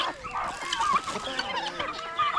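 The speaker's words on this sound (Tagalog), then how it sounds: "Yung mga sisiw ng manok." Chickens and small chicks clucking and peeping together in a village yard during the cold season, a busy, continuous chatter of overlapping calls at close range.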